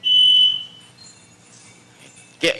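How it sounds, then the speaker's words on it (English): A single loud, high electronic timer buzzer tone sounds for about half a second at a committee meeting, then quiet, ending with a brief soft knock. "I guess that's my buzzer."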